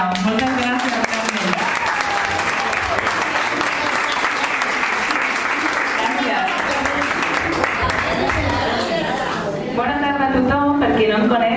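An audience applauds a woman in traditional Catalan pubilla dress at a Sant Jordi celebration in a residence and day centre, steady clapping under overlapping talk and voices throughout, with a brief dip near the end.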